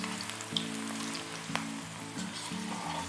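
Bread onion pakoda balls deep frying in oil make a steady, fine crackling sizzle that holds throughout at moderate level beneath soft background music.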